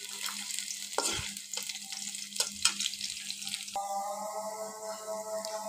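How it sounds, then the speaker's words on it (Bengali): Crushed garlic and dried chillies frying in a pan for a Bengali vine-spinach dish, with a soft continuous sizzle broken by several sharp scrapes and stirs, close but fairly quiet. "আর এই শুকনো মরিচের সাথে দিচ্ছি একটু থেতো করা রসুন।"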